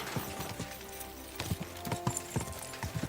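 Rhythmic clip-clop of horse hooves at a steady trot over a busy game soundscape in Kingdom Come: Deliverance II, fairly close and moderately loud.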